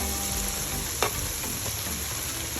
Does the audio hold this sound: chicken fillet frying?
yes